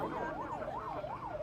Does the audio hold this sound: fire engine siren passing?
yes